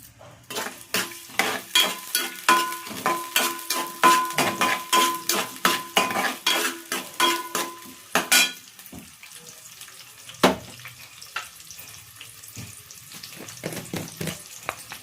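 Onions frying with ginger and garlic in a pan, a spoon clattering against the metal in quick, rhythmic strokes over a steady sizzle, then one louder knock and a softer sizzle left alone.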